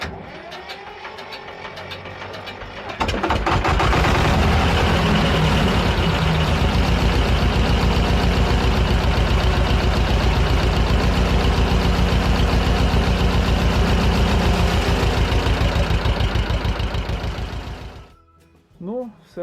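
T-25 tractor engine idling after a valve repair, starting up after a few seconds into a loud, close, steady mechanical chugging with valve clatter that runs on before dying down near the end, with talk nearby.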